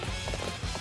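Horse hooves clip-clop at a steady running gait in Dynasty Warriors 8 Empires, a short, moderately loud patter of repeated low thuds.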